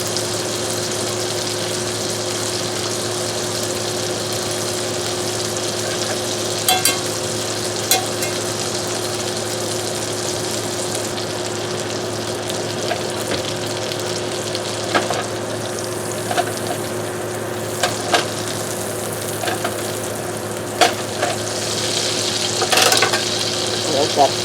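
Chopped garlic cloves fry in butter in a pan for steak, giving a steady close sizzle with a few sharp clinks and pan knocks scattered throughout.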